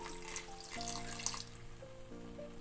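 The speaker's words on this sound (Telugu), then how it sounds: "దీంట్లో వాటర్ యాడ్ చేస్తున్నానండి నేను." Water is added to a lentil and tomato curry, a faint brief pouring hiss in the first second or so under soft, steady background music.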